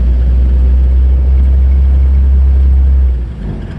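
A 1948 Willys Jeepster with a manual transmission pulls away in first gear, its engine a loud, steady low drone close by that eases slightly toward the end.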